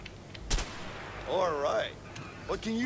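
A burst-fire assault rifle in the A Way Out game gives a sharp, loud shot near the start and a shorter report near the end. Voices and spoken sounds fill the gaps between them.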